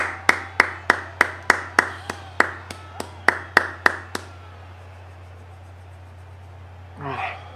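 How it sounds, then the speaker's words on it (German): One or two people clap by hand in a quiet room after a football video-game match, about fourteen sharp close claps at a steady rhythm, then silence and a short voice at the end. "Applaus für dich auf jeden Fall."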